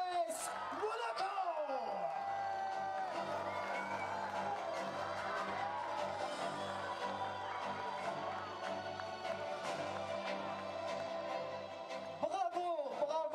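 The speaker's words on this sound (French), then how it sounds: "Veuillez applaudir bien fort les joueurs de l'AS Monaco" Crowd noise at a youth football tournament final, the U11 BLB Cup, as the AS Monaco winners receive the trophy: broad cheering and whooping mixed with music and loudspeaker talk, steady throughout, loud and somewhat distant.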